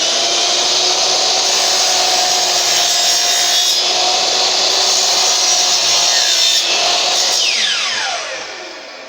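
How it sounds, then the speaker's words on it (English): A power saw cutting through wood for an indoor garden frame, a loud continuous whining rasp close up that winds down at the end, no talk. "once the saw gets going"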